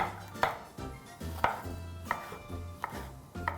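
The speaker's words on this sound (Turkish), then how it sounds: "Her ikisini şöyle kabaca halka hallerde doğruyorum." Knife chopping red and green peppers into rough rings on a cutting board, five sharp, evenly spaced chops standing out clearly with no talk.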